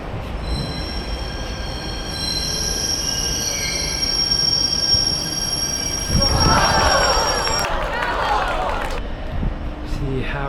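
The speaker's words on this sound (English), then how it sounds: "The train just arriving." A train pulls into a station in Jakarta with high screeching wheel squeals and a rising rumble, loud and close, with a voice speaking briefly.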